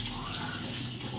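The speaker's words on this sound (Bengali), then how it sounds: "চাটা ধুয়ে নিই।" A pan being washed under a running kitchen tap, a steady broadband rush of water hissing continuously and close by, with no pauses or talk.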